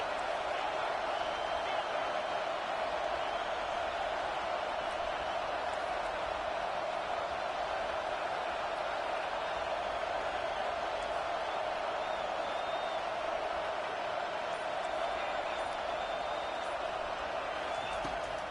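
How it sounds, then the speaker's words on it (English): Steady broadband stadium crowd noise from a college football video game, Mississippi State at California, holding an even, continuous roar throughout with no distinct peaks, heard alone without commentary. "This crowd bringing the energy and noise early."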